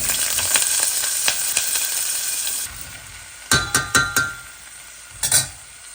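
Chopped cauliflower and potato hitting hot oil in a pan, a steady bright sizzle that fades, then several sharp clinks and stirring bursts, close and alone with no voices.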